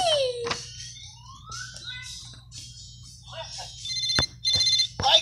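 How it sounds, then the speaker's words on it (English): A phone rings during a Paw Patrol story read aloud with toy characters, bursts of ringtone tones sitting among brief children's voices and chatter, moderately loud and close. "Ryder's phone is ringing."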